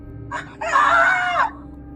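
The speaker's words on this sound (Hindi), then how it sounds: "बहुत जोर से चिल्लाई" A woman screams loudly in terror, a horror-story sound effect: a short cry, then one long, strained, high-pitched scream lasting nearly a second before it cuts off over a low background rumble.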